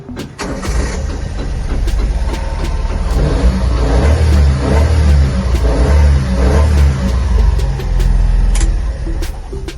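A white 1995 Honda Acty kei truck with a 660cc engine, stick shift and four-wheel drive, revving repeatedly in close, loud bursts over a steady running idle, with no talking.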